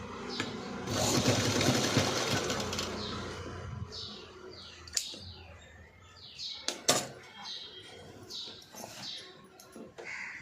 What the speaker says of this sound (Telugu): సైడ్ కూడా వేస్ట్ అనేది బ్యాక్ సైడ్కి పెట్టి స్టిచ్ వేసుకోవాలి.